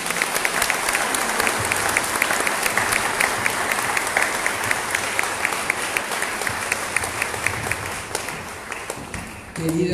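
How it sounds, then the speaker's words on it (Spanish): A large crowd applauds steadily and loudly for about ten seconds, dense clapping throughout, tapering slightly near the end. "pido que recibamos con un fuerte aplauso"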